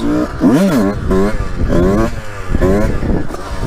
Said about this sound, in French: Wheeling en première ou quoi?